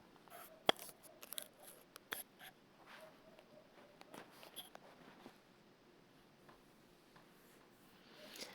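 Scissors trim dress fabric while a one-shoulder dress is being sewn, giving soft, close, irregular snips and cuts with quiet pauses between them and no talking.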